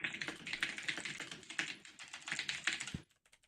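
Rapid, steady typing on a computer keyboard, with close, busy clicking of keys that runs for about three seconds and then stops, leaving a few faint taps.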